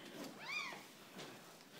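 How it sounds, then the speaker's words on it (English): A cat gives a single soft, faint meow, rising and falling briefly against a quiet indoor background. "And there's the cat."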